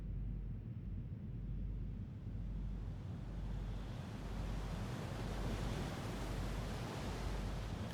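Waves thrash and wind howls at an island coast cave in the video game Foolish Mortals, a continuous loud roar of surf and gusting wind with rolling swells, without any voices.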